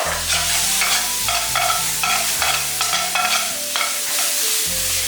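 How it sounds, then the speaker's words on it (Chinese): Luffa gourd being stir-fried with salty preserved vegetable and garlic in a hot wok, a loud, steady sizzle with rhythmic scraping strokes of the spatula tossing the food, up close with no talking. "快速翻炒一下，下冬菜，冬菜是咸的哦"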